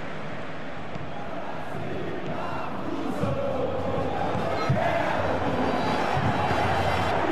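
Steady football stadium crowd roar in Super Bomba Patch, Fluminense against Santos, a continuous dense murmur and chant of fans filling the background with a few small swells, under commentary talk throughout.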